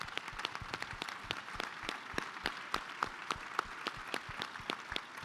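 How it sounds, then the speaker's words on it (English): Standing ovation from an audience at a changemakers awards event, a sustained wash of clapping with a few sharp, close individual claps popping out above the crowd. "please applaud the work that's been done so far and all the families up here"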